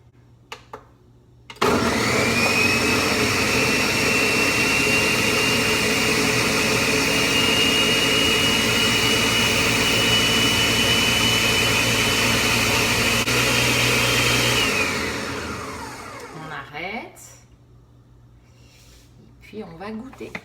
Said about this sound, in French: Et on va mixer tout ça.